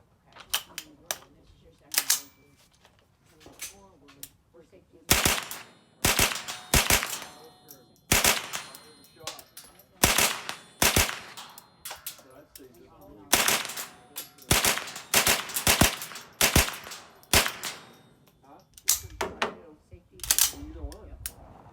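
Rapid close gunshots from a 13.7-inch AR-15 rifle fitted with a Surefire compensator, sharp loud cracks fired in quick strings and bursts with short pauses between them.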